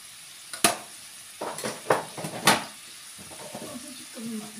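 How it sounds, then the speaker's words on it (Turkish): A utensil stirs food in a pan with several distinct scraping clacks and brushes against the metal, while a quiet sizzle continues underneath. "Şimdi bunu birazcık daha karıştırayım."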